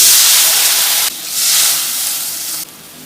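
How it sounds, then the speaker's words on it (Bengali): Two bowls of water hit a hot pan of chili flakes, turmeric and cumin powder for a semolina snack, setting off a loud, close, steady hiss of steam and sizzle that surges twice before easing. "এবার দিয়ে দেব 2 বাটি জল"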